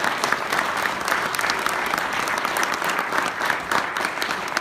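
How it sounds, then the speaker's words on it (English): Audience applause for the panelists at a housing panel, steady dense clapping from a crowd that holds at an even level throughout with no one speaking. "let's give our panelists a big round of applause"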